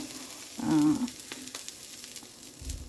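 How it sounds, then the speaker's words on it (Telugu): Dosa batter sizzles on a hot pan at home during breakfast cooking, a soft steady frying hiss that swells briefly near the start and then settles into a quieter crackle. "దోశ వేసుకుందాం"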